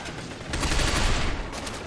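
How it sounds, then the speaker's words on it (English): Distant gunfire and battle noise from the third-person shooter Binary Domain, a steady muffled rattle of shots under a continuous roar with no clear separate bursts. "Faye, you're being shot from someone."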